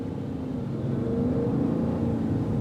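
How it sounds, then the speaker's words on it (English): A 2022 Maserati Levante Modena S SUV pulling away hard from a green light, its engine giving a steady, rising mid-pitched drone heard from inside the cabin, moderately loud and continuous with no talk over it. "And I mean, the car just takes off."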